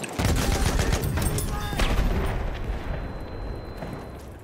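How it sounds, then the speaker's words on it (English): Grenade blast and bursts of gunfire in a first-person shooter video game, a dense, loud barrage of rapid shots and a booming explosion that fades into rumbling battle noise. "Throw a grenade, watch it."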